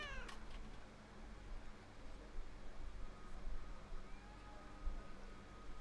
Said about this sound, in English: There is a cat here.